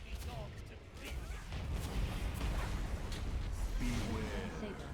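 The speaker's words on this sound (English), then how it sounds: "Cannons! Blast these scurvy dogs to bits!" Heavy cannons fire in a World of Warcraft dungeon as a series of rumbling booms and blasts. They sound over a dense game soundscape that carries some indistinct voice chatter.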